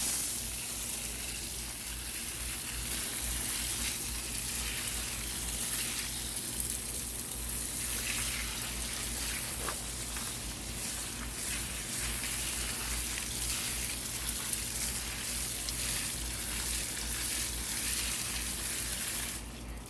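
Garden hose watering wand spraying water onto the soil around a lemon tree outdoors, a steady hissing spray that runs continuously and fairly softly, with no talking.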